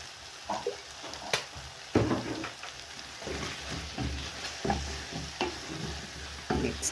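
Goat tripes (matumbo) stirred in a frying pan after a splash of soy sauce, with steady sizzling under repeated scraping stirs and clacks of the spoon against the pan, close and moderately loud.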